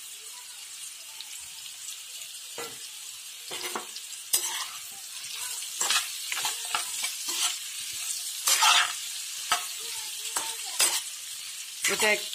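Tomatoes, onions, green chili and crushed ginger sizzle in a frying pan as a spatula stirs and scrapes in repeated bursts, close and clear, with a brief word spoken once.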